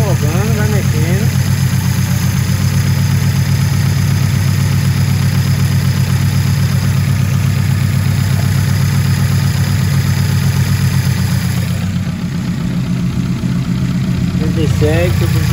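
Carburetted car engine idling steadily and loudly while its throttle is adjusted during wideband air-fuel tuning, a constant low rumble throughout with brief speech near the start and end.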